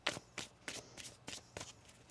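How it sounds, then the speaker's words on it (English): Tarot cards being shuffled by hand, heard as a quiet, even series of short papery riffles about every third of a second, close and faint, with nothing else. "One more shuffle here."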